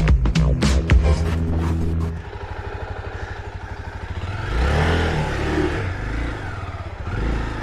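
A motorcycle engine revs and labors while the bike is stuck in mud, its throttle rising and falling in uneven bursts, close and loud, with a clattering edge and a short voice near the start.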